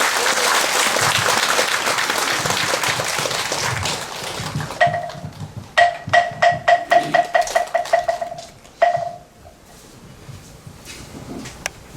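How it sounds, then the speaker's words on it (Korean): Audience applause at a Buddhist consecration ceremony, a dense burst of clapping for several seconds that thins into scattered individual claps and a few trailing claps before fading out. "박수로 부탁드리겠습니다."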